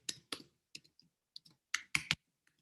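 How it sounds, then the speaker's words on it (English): A password typed on a computer keyboard: about a dozen sharp, close key clicks in an uneven rhythm, some paired in quick bursts, with no talk. "I'm typing my my password"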